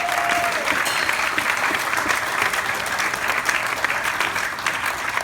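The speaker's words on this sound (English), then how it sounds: "So how about a round of applause for him finally?" A crowd applauds steadily, a dense wash of clapping that holds at the same loud level from start to finish.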